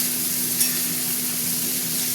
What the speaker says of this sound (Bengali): এবার আমি কুমড়োটা দিয়ে দিলাম, পেঁয়াজের সাথে ভাজা ভাজা করবো